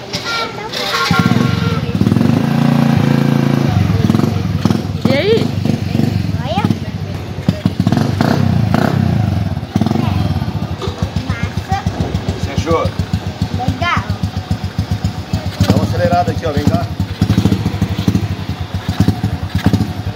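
A Rhino 2x2 off-road motorcycle runs at a factory, its engine putting out a rough, pulsing idle that steadies into rapid rhythmic firing, loud and close, with people talking over it.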